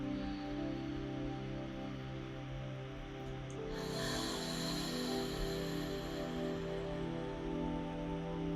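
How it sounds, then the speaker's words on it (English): Ujjayi-style ocean breath drawn in through the nose with a slight throat constriction, a steady airy hiss that swells partway through over a low sustained drone, with no talking. "It's a little bit of constriction in the throat. So you want to hear your breath."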